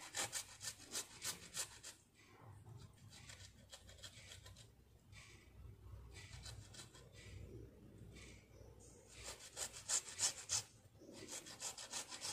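A tomato is grated by hand, with rhythmic rubbing and rasping strokes that come in bursts, fading in the middle before picking up again, close by and with no talking.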